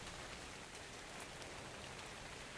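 Steady rain in Ark: Survival Evolved hisses in an even, dense wash with no pauses. It is faint and continuous, with no voices.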